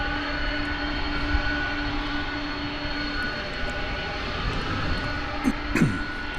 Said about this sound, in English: view the incoming flight from Chile